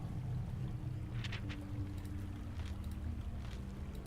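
Steady low engine drone and lapping water of a boat in motion in the video game The Warlock of Firetop Mountain, with occasional splashes and a faint tonal hum, continuous throughout.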